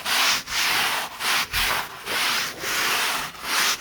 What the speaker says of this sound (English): just rub back and forth across it like this